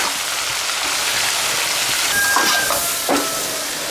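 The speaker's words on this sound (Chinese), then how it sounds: "大火翻炒。" Beef for spicy beef jerky stir-fried in a wok over high heat with celery and spices, a steady loud sizzling hiss with a few scraping clatters of the spatula against the wok, no talking.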